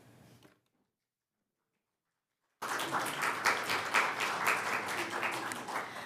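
An audience at an El Paso County budget kickoff meeting applauds for the County Administrator, a dense, sustained burst of many hands clapping that begins suddenly after a near-silent pause and holds steady at moderate loudness.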